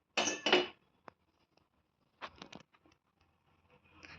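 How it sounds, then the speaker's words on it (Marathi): A spoon clinks and scrapes against a metal pot of milk tea on the stove in a few short bursts, separated by near silence. "सो यामध्ये दूध ॲड केलेलं आहे आत्ता स्टारिंग स्टारिंग स्टारिंग"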